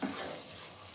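A spoon stirs spicy tomato crab with slit green chillies in a hot pan, giving a steady soft sizzle and scraping hiss that holds evenly and quietly throughout, with no talking.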